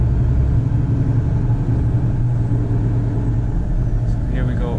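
Scania G440 truck pulling a trailer up a hill, its engine giving a steady, loud, low rumble that holds throughout, with a faint squeak near the end.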